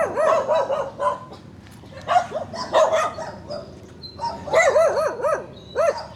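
Several dogs bark in a roadside setting in the Philippines, repeated bursts of sharp, fairly close barks and yips coming in clusters with short pauses between them.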